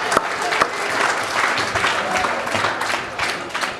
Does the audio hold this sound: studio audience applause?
yes